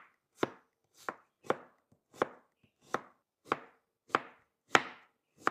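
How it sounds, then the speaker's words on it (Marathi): A knife chops onions on a cutting board for paneer makhni gravy, producing about ten crisp, evenly spaced thwacks in a steady rhythm, close and clear with silence between strokes. "आपण आता ग्रेव्हीसाठी कांदे कट करून घेऊ।"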